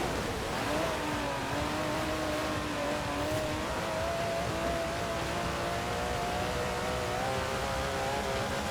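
An Aston Martin DB11 with a 5.2-litre twin-turbo V12, driven in Forza Horizon 4, droning steadily at speed with a rising, sustained engine tone over continuous road and wind roar, no pauses.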